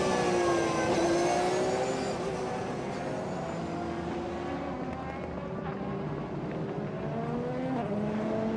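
Race cars on the formation lap at the Asian Le Mans Series 4 Hours of Sepang, engines droning and shifting pitch as they pass, a continuous loud mechanical roar with overlapping tones.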